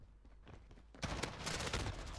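M4 rifle gunfire in a video game on the Suldal Harbor map: rapid bursts start abruptly and run on loud and dense after a quieter, muffled stretch.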